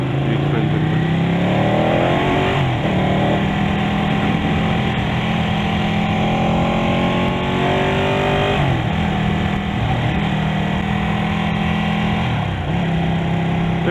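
A Ducati Panigale 1299 motorcycle engine drones steadily and loud while riding, its pitch rising and falling through several rev sweeps with gear shifts across the whole stretch, no talk over it.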